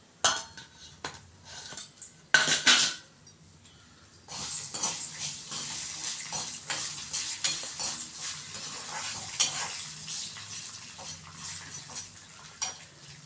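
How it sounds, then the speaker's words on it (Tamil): Urad dal frying in hot oil in a pan while making pudina chutney, a soft continuous sizzle broken by metal spoon scrapes and a few louder clinks of stirring against the pan, fairly quiet and close. "நம்ம உளுத்த பருப்பு எடுத்து வச்சுருந்தோம் இல்லையா, அதை நம்ம இந்த ஆயிலில் போட்டாச்சு"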